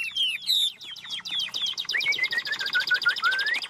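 A Chinese hwamei songbird sings close by in a continuous, varied run of loud whistled phrases and rapid trills, with no talking over it.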